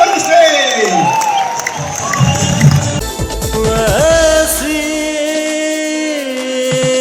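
An audience at a business leadership awards event cheers and claps, with shouts and whistles rising over a loud crowd roar while music and voices carry through the hall.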